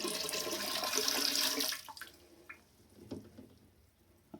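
Dirty water from a robot vacuum's tank pours out in a close gush for under two seconds, then stops, leaving only a few scattered drips and small knocks.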